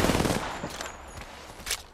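Rapid video game gunfire from a sci-fi shooter with recharging shields, a dense burst of overlapping shots up close at first that thins into scattered cracks, with a sharp louder blast near the end.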